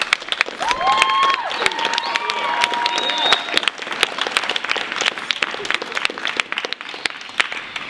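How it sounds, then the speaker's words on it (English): A school theater audience gives a round of applause for the students before a performance of The Crucible, a dense crowd of clapping that runs throughout with a few voices mixed in. "let's give our students a round of applause"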